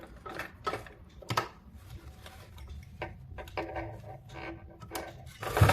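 A sewing machine stitching the hook side of a ladies' pant, giving quiet irregular bursts of rapid ticking and clatter with short pauses between runs, close and fairly soft.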